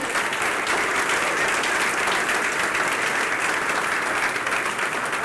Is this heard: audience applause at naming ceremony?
yes